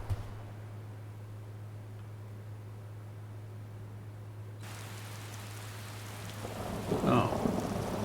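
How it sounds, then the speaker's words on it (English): Rain in a video game hisses softly over a low steady hum, then the downpour grows louder and a rumble of thunder swells near the end. "Oh, it's raining."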